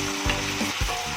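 Ginger garlic paste, onion and bay leaf sizzle in a pan, a constant close hiss broken by two soft scraping stirs.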